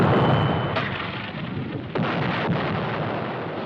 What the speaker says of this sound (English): Target, first barge. Range 800. Lead 5. Ready. Fire!